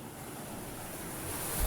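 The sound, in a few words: sea waves on the shore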